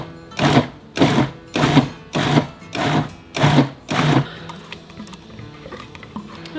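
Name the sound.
food processor chopping red pepper relish ingredients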